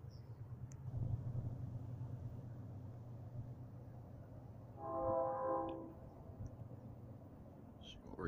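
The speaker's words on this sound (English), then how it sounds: "We're getting is just a train honking" A train horn sounds once in a steady sustained blast from a distance, over a low constant rumble and faint background hum.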